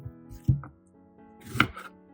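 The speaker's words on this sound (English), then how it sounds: "I will slice 1 kilogram of cleaned onions." A knife slices through a kilogram of cleaned onions in a kitchen, with two distinct chopping impacts about a second apart, close and moderately loud, over quiet background hum.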